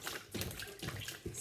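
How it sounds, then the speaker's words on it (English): Warm water from a bucket splashes into an old baby bath on a kitchen table, heard as a few brief, gushing pours in quick succession. "Then he began to fill it with buckets of warm water."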